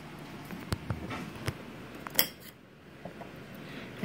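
A knife trimming the blossom ends off garlic cloves on a board, with a handful of light, crisp cutting clicks and taps spread unevenly over a few seconds, one sharper snap partway through.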